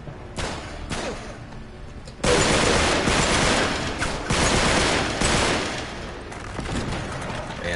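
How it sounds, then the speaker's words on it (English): AK-47 gunfire in Uncharted 3, part of the Nathan Drake Collection: a few sharp shots, then a heavy sustained fusillade of rapid close bursts with booming impacts, continuing loud and dense through the rest. "AK-47"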